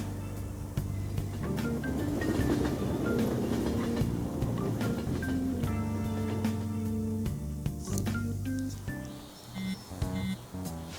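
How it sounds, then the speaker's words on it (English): In the video game Persona 5 Royal, a train rumbles and clatters steadily into a station, with a low mechanical drone and rhythmic clicks, fairly close and continuous without talking. "Oh, the train is here."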